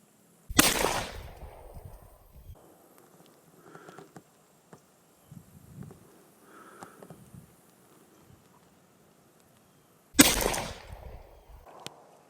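Two sharp, loud reports from a Marlin Model 45 Camp Carbine, spaced well apart outdoors with a short echo after each, and faint quiet background sounds and a distant voice in between.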